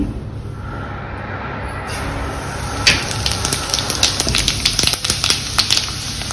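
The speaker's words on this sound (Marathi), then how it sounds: "आता आपण तेलामध्ये टाकूयात जिरे" Cumin seeds drop into two big spoons of hot oil in a kadai and start sizzling, a steady frying hiss that builds into scattered sharp crackles and pops, close up with no talking.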